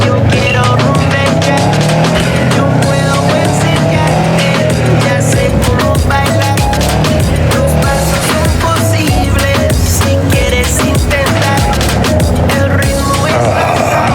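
A car drives continuously through Night City in Cyberpunk 2077, with a loud, steady engine and road roar that barely changes, accompanied by dense rattling and a faint background voice.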